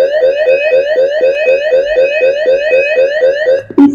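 A GSK-A7KP wireless keypad security system sounds its alarm siren, a loud, rapidly repeating electronic warble that cycles steadily for several seconds before cutting off abruptly.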